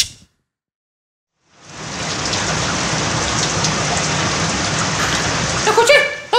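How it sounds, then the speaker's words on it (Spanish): After a second and a half of near silence, steady rain sets in and keeps falling as an even, close hiss, with a few brighter drips and taps near the end. "¡Lluvia! ¡Está lloviendo!"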